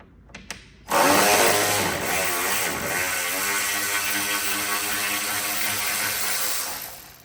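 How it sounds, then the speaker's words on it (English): A power ratchet with an extension running on a headlight bolt of a 2017-2019 Ford Powerstroke truck, starting after a few clicks and whirring loudly and steadily, close up, its pitch wavering as it bogs down. "Ratchet's kind of bogging down there, you hear that?"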